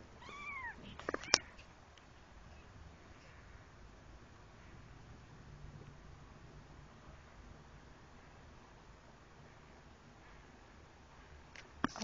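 Kittens give a few faint high meows early on, then only a quiet background hiss follows, with one more soft chirp near the end.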